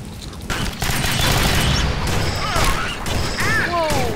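Rapid twin pistol fire from the Alien Swarm video game, a dense run of close, loud shots with crashing impacts, mixed with game effects and a few rising electronic chirps near the end.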